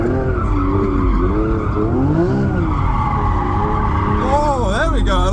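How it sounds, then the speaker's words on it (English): A car slides sideways through a long drift, its tires squealing in wavering, rising and falling tones from inside the car at a British motor show, the screech continuous and loud. "there we go, a long drift"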